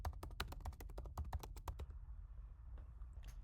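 Computer keyboard typing out a web search for a Python download on a Mac, a rapid run of crisp close key taps that stops partway, leaving quiet room tone.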